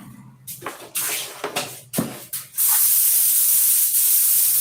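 Paint spraying on in a wet coat, with a few short bursts at first, then one long, steady, loud hiss up close and no talking.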